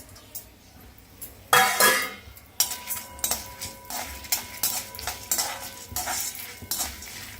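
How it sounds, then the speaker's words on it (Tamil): Coriander seeds, chana dal, urad dal and peppercorns dry-roasting in a pan, stirred with a metal spoon that clinks and scrapes in quick repeated strokes, louder after the first moments, over a faint crackle. "இப்போ இந்த தனியா, கடலைப்பருப்பு, உளுத்தம்பருப்பு, மிளகு இதெல்லாம் போட்டு வறுத்துடணும்."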